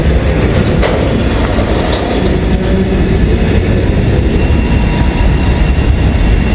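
An Amtrak passenger train led by a heritage locomotive crosses elevated tracks over the Ohio River, its steady rumble and clickety-clack of wheels loud and continuous throughout, with no talking.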